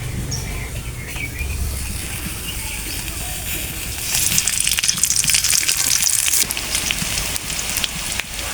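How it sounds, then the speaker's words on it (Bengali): Onions frying in oil in a pan at home, a dense, hissing sizzle that grows louder and brighter partway through, with faint background chatter underneath. "পেঁয়াজ ভাজা হয়ে গেছে"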